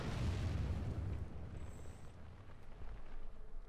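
Artillery shell blast in World of Tanks, a deep rumbling boom that rolls through the low end and slowly fades, followed by a lingering roar of debris and terrain being torn apart.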